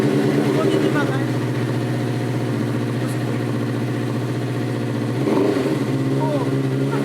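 A Suzuki GSX-R 750 motorcycle, left in a garage for a year, runs steadily after its first start, a continuous low engine drone with a brief rev swell near the end, close by with faint voices.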